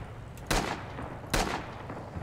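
Two loud, sharp rifle shots from an M1 Garand in Red Orchestra 2, spaced under a second apart, each with a short echoing tail over quiet background.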